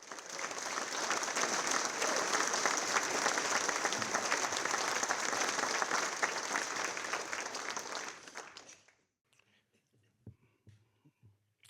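A gala crowd at a Missouri Restaurant Association ball gives the staff a hearty round of applause that lasts about eight seconds, then stops abruptly, leaving near-silence with a few faint knocks and murmurs.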